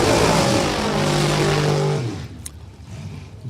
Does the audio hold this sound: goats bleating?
no